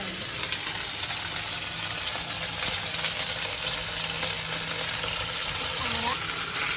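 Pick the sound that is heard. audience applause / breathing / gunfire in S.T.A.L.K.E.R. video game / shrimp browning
shrimp browning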